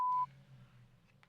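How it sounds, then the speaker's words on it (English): An answering machine at a U.S. Marshal's office sounds one loud, steady electronic beep lasting a fraction of a second, followed by faint room hiss. "Leave a message after the beep."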